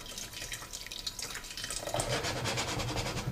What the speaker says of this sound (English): We're gonna add a little bit of boiling water.